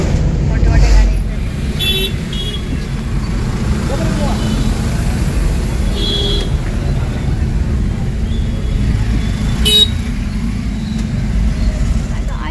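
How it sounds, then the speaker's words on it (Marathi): Heavy road traffic with big container trucks and cars rolls past in a steady, loud rumble, with a few horn toots cutting through the constant engine and tyre noise. "मोठ्या मोठ्या गाड्या येतात."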